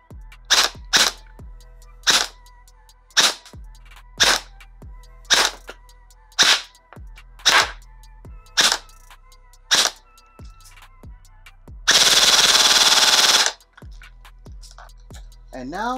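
A Specna Arms Flex M4 airsoft electric rifle on an 11.1 V LiPo battery fires 0.20 gram BBs in about a dozen sharp, separate single shots, each a crisp snap, followed by a short full-auto burst.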